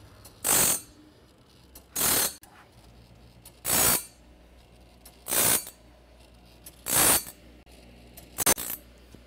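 A TimberKing auto sharpener's grinder works a sawmill blade, giving six sharp, evenly spaced bursts of grinding about every one and a half seconds, each brief and bright against a quiet mechanical background, with no talk.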